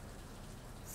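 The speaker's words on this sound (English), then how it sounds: "you can probably hear the rain outside" Real rain falls outside, a faint, continuous broadband patter with no distinct drops standing out, heard from indoors at a distance.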